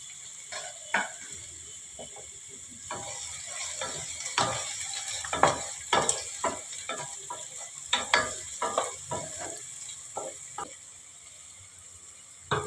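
Chopped hot green chilli, garlic, tomato and ginger stirred and frying in a pan for Bengali-style chicken fried rice, a steady sizzle broken by repeated scraping clicks of a spatula, close and alone with no talk.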